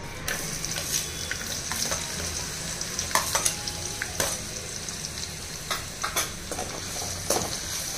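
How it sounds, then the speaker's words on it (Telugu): Thinly sliced onions fry in hot oil in a kadai for a chicken fry piece biryani, a close, steady sizzle broken by frequent sharp scraping and stirring clatters. "ఇదిగోండి నూనె వేడైంది. ఇందులో ఒక 2-3 ఉల్లిపాయలు సన్నగా పొడవుగా తరిగి వేసుకోవాలి."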